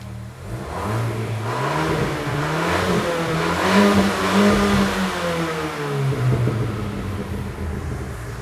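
A 2023 Fiat Pulse Abarth compact SUV engine revs repeatedly, rising and falling in pitch with a throaty note from twin exhaust outlets and sharp pops and crackles, close and loud throughout.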